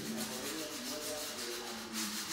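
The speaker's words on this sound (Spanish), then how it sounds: "se le da una tallada con esa lija echándole agua" Sandpaper of 120 grit rubs steadily over stone tiles wetted with water, a soft continuous scrubbing heard up close and fairly quiet, with no talking.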